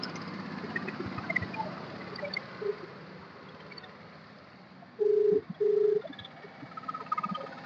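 An unanswered outgoing phone call gives two short ringback tones in quick succession. They are heard over a faint, steady background hum, with no speech.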